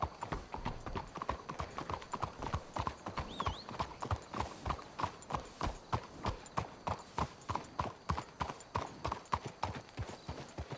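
Horses walk with steady, even hoof clip-clops in Red Dead Redemption 2, a continuous rhythmic clatter throughout, with a brief faint whinny partway through.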